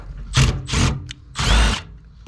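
A power drill gives three short, close whirring bursts, with a tiny blip between the second and third, while backing screws out of an HVAC unit's housing.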